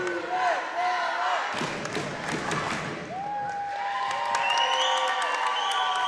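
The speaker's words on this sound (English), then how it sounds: "This crowd is loud. This crowd is proud." A boys varsity high school basketball crowd, White Swan against Highland, roars and cheers steadily at close range, with voices shouting, thumps and shrill whistle-like tones rising over the noise.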